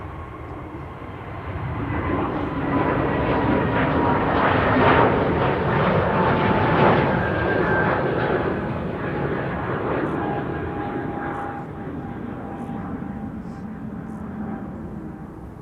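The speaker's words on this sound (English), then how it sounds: "A321neo, Transavia to Palma de Mallorca." A Transavia Airbus A321neo jet departing Amsterdam Schiphol, its engine roar swelling and holding loud and steady for the whole stretch before easing slightly, with a faint whining tone threaded through the rumble.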